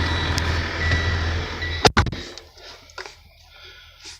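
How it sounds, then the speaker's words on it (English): A semi truck's diesel engine idles with a low, steady rumble for about two seconds, then a sharp clunk cuts in and the sound drops to a quieter cab ambience with a few faint knocks. "start your truck"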